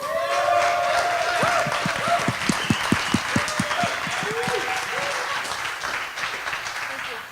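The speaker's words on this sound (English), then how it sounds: "And please give Bill a giant round of applause." Applause from an audience welcoming a speaker to the stage at a Consciousness Hacking talk, a dense wash of clapping with some sharper individual claps standing out midway, steady and fairly loud throughout the clip.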